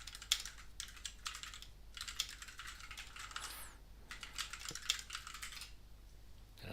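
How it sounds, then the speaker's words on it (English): Password typed on a computer keyboard at a desk, bursts of quick soft key clicks separated by short pauses, close and fairly quiet against a low steady hum. "Did I type my password right?"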